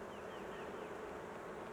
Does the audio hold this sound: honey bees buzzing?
yes